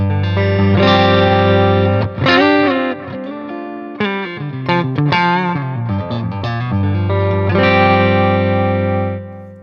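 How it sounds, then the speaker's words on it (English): An electric guitar through a Stone Deaf SD-30 amp head, with delay in the effects loop, plays a sustained, distorted phrase with chorded notes ringing out and trailing echoes, loud and close, no voices. "I've got a delay in the loop"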